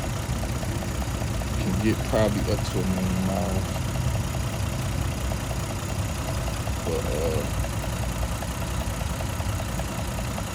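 A 2002 Toyota Camry XLE V6 idles steadily with a constant low hum throughout, while someone talks close by over the engine.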